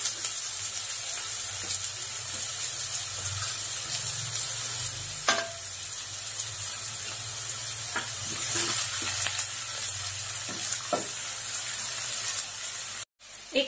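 Chopped onion sautéing in a pan for a traditional Maharashtrian green moong dish, giving a steady close sizzle with faint stirring clinks, with no talk.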